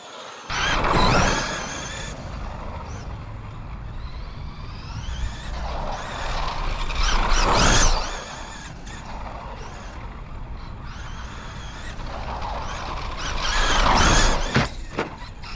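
A modified Traxxas Slash RC race car runs on a dirt oval, its electric motor whining up and down as it passes close several times, with surges of tire noise and flung dirt between quieter stretches.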